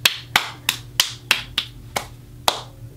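One person's hands clap in a sharp, evenly spaced series of about eight claps in a cinema, performed as an imitation of a lone moviegoer starting to applaud, close and loud with no other sound.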